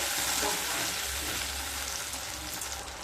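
Tomato paste fries in a pan with a steady, dense sizzle and soft stirring, close and continuous without pauses, no one speaking.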